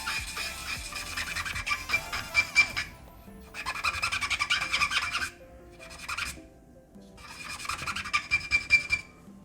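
Residue on an Atari Jaguar chip scrubbed with alcohol, producing loud close bursts of squeaky, rasping rubbing strokes in three main runs separated by short pauses.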